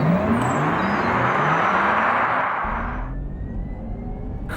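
A Porsche Taycan 4S Cross Turismo electric car in Sport Plus accelerating hard from 0 to 60, a loud continuous rising whir with road and wind roar that shifts and settles toward the end, no talk.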